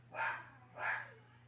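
Two separate barks from a dog, evenly spaced and moderately close, set against quiet background hum, with no talking.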